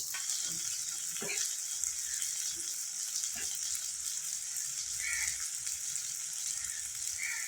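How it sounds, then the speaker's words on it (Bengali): Fermented dried fish frying with onions in a hot pan makes a steady, bright sizzle throughout, with a few soft clinks and stirring touches early on. "এখন আমি শীতলগুলি দিয়ে দেব।"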